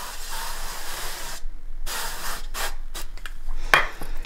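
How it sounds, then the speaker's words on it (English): Organic extra virgin olive oil sprayed onto a griddle in short bursts, several quick hissing sprays with brief pauses between, close and fairly loud. "I'm just gonna spray my griddle here."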